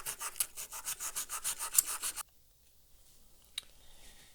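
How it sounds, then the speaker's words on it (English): Steady back-and-forth rasping strokes of sandpaper on the corroded metal hood of a Hot Wheels Dixie Challenger die-cast car, about a dozen close rhythmic rubs that stop abruptly, followed by near silence with a faint tap. "So I'm going to sand this hood."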